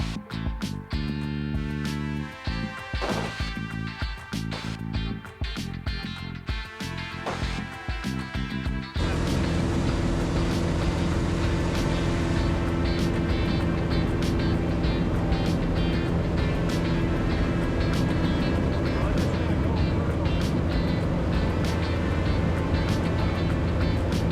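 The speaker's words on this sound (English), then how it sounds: "So you just put the throttle full blast to take off and keep it there?" A small airplane's engine runs at full throttle for takeoff, a loud steady drone that grows denser and more constant partway through, with no break.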